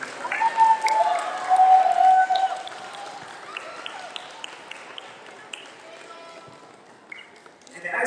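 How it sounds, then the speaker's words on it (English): An audience at a school Pan African event applauds the choir, steady clapping in a large room that swells and then thins out, with squeaky footsteps and scattered voices underneath. "Clap it up for the choir, please."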